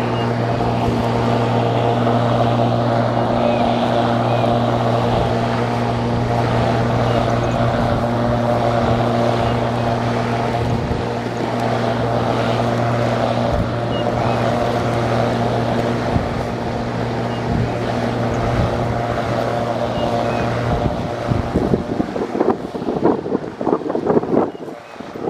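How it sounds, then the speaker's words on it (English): A lawn mower engine runs steadily while cutting grass on a hill, a loud constant droning hum with wind buffeting the microphone, breaking into rougher uneven noise near the end. "So I'm going to start the mower and then you can see how it works."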